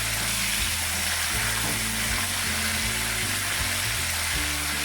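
Fish frying in a pan for a garlic black bean sauce dish, a steady loud sizzle running throughout, with a few low thumps and shifting tones from the pan beneath it.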